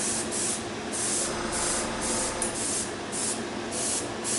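An airbrush fitted with a 0.5 needle sprays paint onto a large model railway gun part, a close steady hiss pulsing in short repeated bursts as the trigger is worked.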